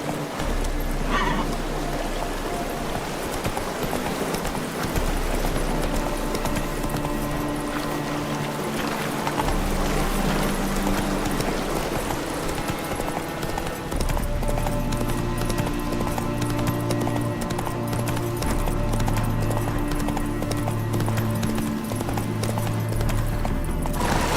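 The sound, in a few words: horse Roach galloping in video game The Witcher 3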